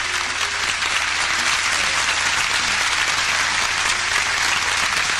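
Crowd at a concert applauds loudly and continuously, a dense wash of clapping and cheering that fills the venue with no pauses.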